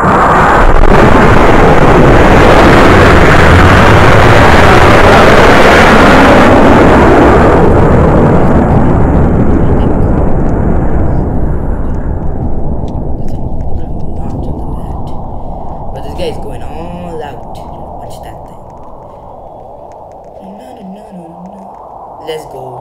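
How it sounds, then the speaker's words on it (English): A rocket launch in the Roblox video game starts as a loud, dense roar that fades gradually as it recedes, leaving faint crackles and a voice talking at the end. "The rocket left. Blast off, baby."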